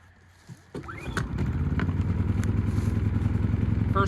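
Generator behind an off-grid cabin, used to charge solar batteries, is pull-started: a quick cord pull and clatter, then the engine catches and settles into a loud, steady, close running drone.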